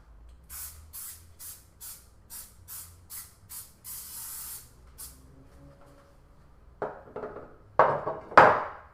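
Short hissing bursts of cooking spray into a baking pan, about nine quick puffs and one longer spray, followed by a few clattering knocks of the pan.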